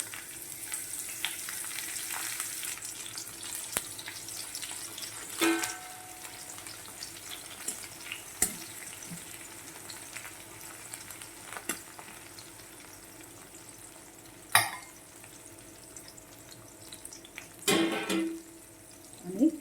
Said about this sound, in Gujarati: તેમાં આપણે ઝીણા સમારેલા મરચાં અને કડી લીમડો નાખી દેવાનો છે